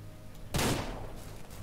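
A single sharp, loud gunshot crack from the ranch simulation game Ranch Simulator, followed by a brief fading echo over a faint background hum.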